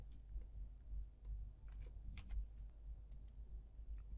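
Name being typed on a computer keyboard, a quiet patter of light key clicks at a steady, uneven pace over a low background hum.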